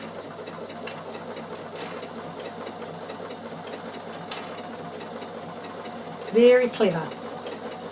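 A Bernina sewing machine stitches slowly at a steady hum, close and moderately quiet, while a voice talks over it.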